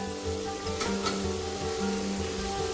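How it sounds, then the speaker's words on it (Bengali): Fried snakehead fish pieces simmer in a sour gravy over medium-low heat, giving a continuous close sizzle and bubbling that holds steady under faint tonal background sounds. "গ্রেভিটা ফুটেলে দিয়ে দেবো ভেজে রাখা মাছ, দিয়ে 5 মিনিট ফুটিয়ে নেব"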